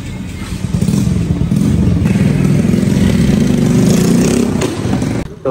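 Motorcycle engine running steadily at a fuel stop during a ride from Karachi to Bahria Town, a loud continuous low rumble with slight clatter that cuts off near the end.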